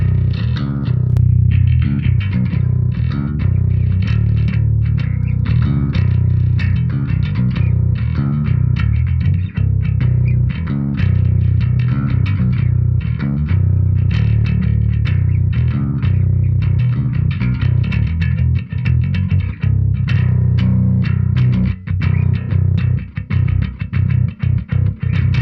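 Bass guitar played through blended Eden Nemesis cabinet impulse responses, with a honky, thin tone; a steady, dense run of loud notes continues without pause for the whole stretch, with no voices.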